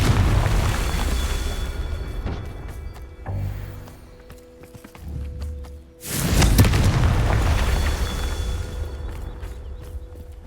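Deep booming blasts of the Confringo spell in Hogwarts Legacy, a loud rumbling explosion early on and another sharp burst midway with rolling low-end aftermath, mixed with game ambience and footsteps.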